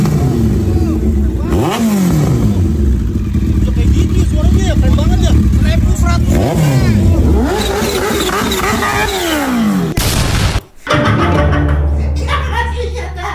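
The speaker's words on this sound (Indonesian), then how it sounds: "gua pengen denger suara motor lu" An 1100 cc Hayabusa-based motorcycle engine, a converted H2-style Air Raider build, is revved hard in repeated rising and falling bursts, loud and close, then cuts out abruptly and idles, with people talking over it.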